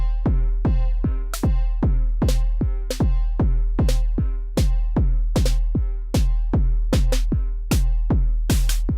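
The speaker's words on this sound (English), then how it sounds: "this is the sound of the snare drum" Snare drum from an Axoloti drum synthesizer, sharp bright hits in a steady driving pattern with pitched ringing tails, loud and close, played alone without talk.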